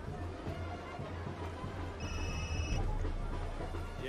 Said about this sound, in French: Ah, téléphone qui sonne.